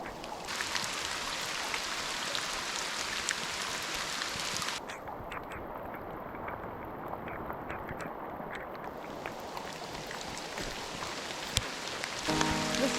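Rain falling steadily during a hike in California, a dense even hiss of drops pattering on surfaces, continuous and close with a few sharper taps and no talking.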